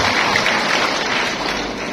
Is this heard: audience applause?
yes